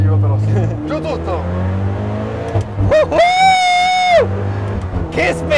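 A supercar's engine at full throttle on a race track, a rising, high-pitched roar that swells loudly in the middle and sits close by, while people talk excitedly in Italian over much of it.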